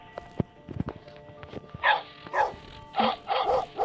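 A dog gives several short barks in quick succession, close by, after a few soft taps and shuffling sounds.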